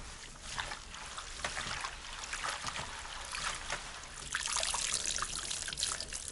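African vegetables are swished and rinsed by hand in water in a Kenyan village kitchen before boiling, giving steady close splashing and trickling that grows louder and busier near the end, with no talking.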